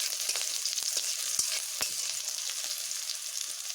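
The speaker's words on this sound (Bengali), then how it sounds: "পেঁয়াজ আমার কিছুটা ভাজা হয়ে এসেছে" Onions frying in a pan with oil for a green plantain peel recipe, giving a steady, close crackling sizzle with occasional sharper pops and stirring ticks throughout.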